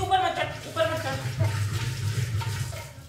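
Water pouring into a clay matka at home, a moderate continuous filling rush beneath a voice and other household talk.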